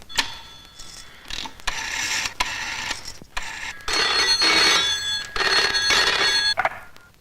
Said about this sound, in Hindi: मैं एक फोन कर सकूं हूँ?